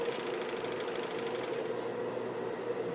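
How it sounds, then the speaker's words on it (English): Overlock sewing machine stitching fabric, a steady fast whirring hum with a fine rapid mechanical pulse, running evenly and smoothly at moderate distance. "notice how smooth I'm sewing with these machines"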